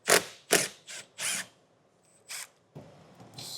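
A ratchet spins off 8mm bolts inside the wheel well of a 2022 Jeep Grand Cherokee, giving close, loud bursts of rapid clicking separated by short pauses, with no talking.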